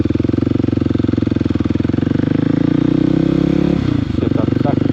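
A motorcycle engine pulling away in first gear as the clutch is slowly let out, a loud close pulsing chug rising slightly in pitch before a brief change in tone near the end.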